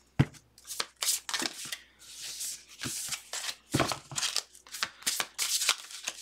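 Oracle cards from a Power of Love deck being shuffled by hand, a run of crisp riffling and sliding bursts with brief pauses, close and fairly loud, no talking.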